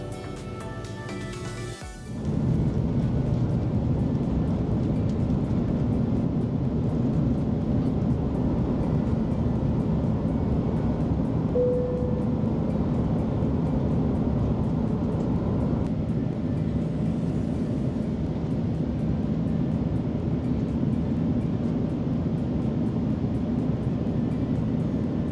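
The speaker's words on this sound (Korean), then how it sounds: "이제 3터미널을 택싱하면서 8주로로 들어옵니다." A T'way Air airliner taxis toward the runway at Incheon Airport, giving a steady, loud cabin roar of engine and rolling noise that holds unbroken for over twenty seconds with no talking.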